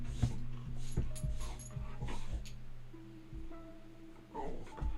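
A dog whimpers and yips in short, high, repeated cries mixed with quick panting, close by and at moderate volume.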